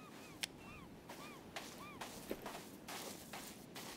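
Seagulls in the video game Sons of the Forest give a series of short, faint calls spaced about half a second apart, heard quietly against wind and ambient game noise with occasional sharp clicks.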